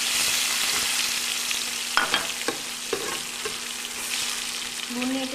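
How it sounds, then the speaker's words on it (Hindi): Garlic and onion fry in a pan for a duck egg curry, giving a steady close sizzle with a few scraping stirs and clinks partway through. "लहसुन, प्याज दे के थोड़ा सा इसको भून लीजिए।"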